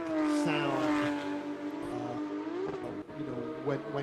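Porsche Cup race cars running at Lime Rock Park racetrack during a club racing event, a steady engine drone with shifting harmonic tones as cars pass, fairly distant and continuous throughout.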